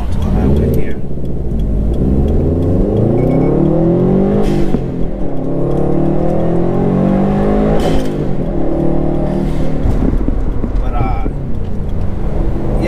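A stock Subaru WRX STI engine drones and revs steadily from inside the cabin, pitch rising and falling with acceleration, while a person talks over it.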